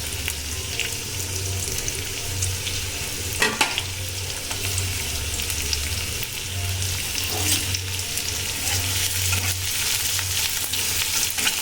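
Onions fry in hot oil in a pan with a steady, close sizzle and occasional stirring clicks, no talking.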